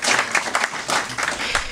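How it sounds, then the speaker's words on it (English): A crowd at a Hall of Fame induction ceremony applauds steadily and fairly loudly, a dense wash of many hands clapping together. "So let's have some applause for Jim."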